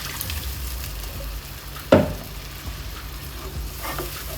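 Water from rinsing a mixer jar poured into curd masala frying in a pan for paneer masala, giving a sharp burst of sizzling that swells then settles into a steady low crackle, with no talking.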